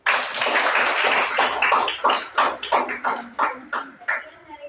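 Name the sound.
applause, clapping hands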